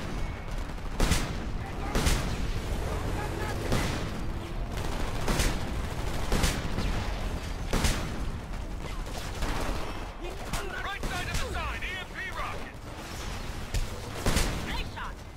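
Repeated gunshots and bursts of automatic fire from the video game Homefront crack in sharp, spaced volleys over a busy battle soundscape, with game effects and background noise between shots.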